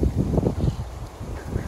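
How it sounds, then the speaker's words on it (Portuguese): A sudden gust of wind blows outdoors in a Portuguese neighborhood street, a loud rumbling buffet of wind noise pushing against the microphone throughout, swelling and easing without any other clear sound. "Ó o vento. Ó, e vento do nada e também para já."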